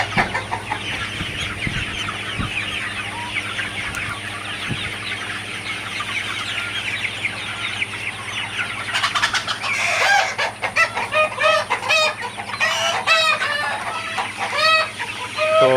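Sonali super hybrid chickens in a poultry house with a high-speed fan running, clucking continuously and busily, growing louder and denser toward the end, with a rooster crowing now and then and a steady fan hum underneath.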